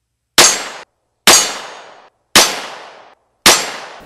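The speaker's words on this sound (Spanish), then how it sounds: "Sonaron cuatro balazos frente a la esquina del barrio." Four sharp gunshot effects ring out alone in an even, spaced sequence, each loud crack decaying into a short echoing tail, with silence between them.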